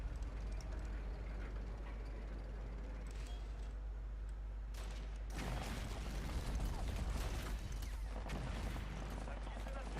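Rifle gunfire crackles through a Sudden Strike battle scene, with scattered shots over a low steady hum that build into a denser burst of fire partway through.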